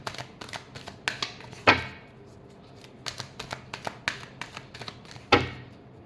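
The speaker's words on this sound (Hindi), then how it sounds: "last shuffle" Tarot cards shuffled by hand, a series of sharp riffling flicks and soft taps in irregular bursts, close and crisp, with louder snaps near the start and end and quieter rustling between.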